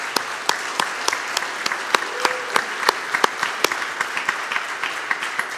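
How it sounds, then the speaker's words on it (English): A church congregation applauds steadily during Sunday worship, many hands clapping with sharp claps standing out, continuous for several seconds without talk. "let us give you a round of applause"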